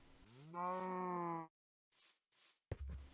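A Minecraft cow mooing in its pen: one long, clear, tonal moo up close, followed by a short pause and some soft game noises.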